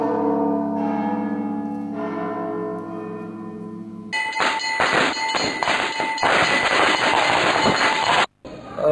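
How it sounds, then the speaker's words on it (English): Church bells ring loudly for the sainthood of Saint Joseph Vaz, with overlapping clangs and long resonant hums, the pealing growing denser and more clamorous partway through. "rang church bells to glorify sainthood of Saint Joseph Vaz"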